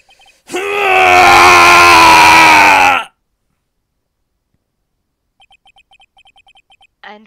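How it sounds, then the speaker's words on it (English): A bone-chilling scream from the Phoenix Wright: Ace Attorney video game: one loud, sustained, harmonically rich shriek lasting about two and a half seconds, then silence broken by faint rapid text-blip ticks. "It's a bone-chilling scream."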